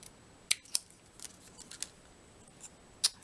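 Scissors trimming paper for a handmade card, a few faint, sparse snips and crisp clicks in a quiet room, with no voices.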